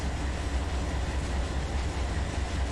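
Steady, close rumble of a BNSF stack train passing in a desert rail simulation, wheels clacking continuously over the rails with no speech.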